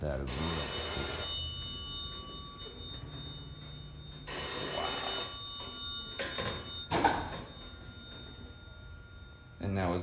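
An antique telephone in a historic house rings with bright metallic bell bursts, two long loud rings separated by a pause, followed by shorter clatters and a final brief ring, with quiet room tone in between.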